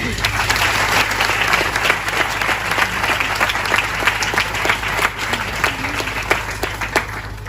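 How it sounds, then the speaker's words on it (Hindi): A church congregation at a Hindi-language Christian service claps in praise to thank God, brisk overlapping hand claps with some individual sharp claps standing out, steady throughout with voices mixed in. "इस दिन के लिए हम प्रभु को ताली बजाकर धन्यवाद दें"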